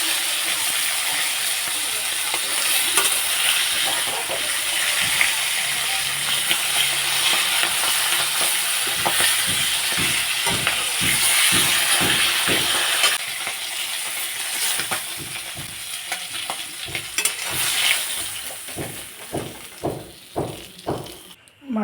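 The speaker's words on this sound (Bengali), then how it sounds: "বাকি আরেক পিঠে আমি হালকা করে ভেজে নিচ্ছি" Hilsa fish pieces fry in oil with a constant hiss, turning into a run of sharp crackles and utensil clicks toward the end.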